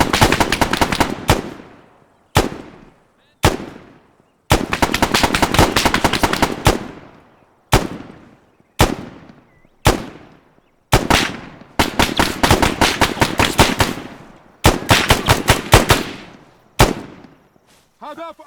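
Bursts of automatic gunfire from a soldier in the Arma 3 video game, fired in repeated sharp volleys separated by short gaps, loud and close, with reverberant tails and gaps lengthening toward the end.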